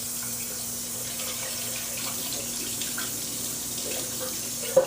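Water runs steadily from a tap as a dish is rinsed in a kitchen sink, a continuous close splashing stream with a faint clink near the end and no talking.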